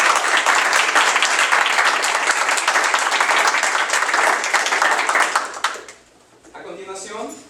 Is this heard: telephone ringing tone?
no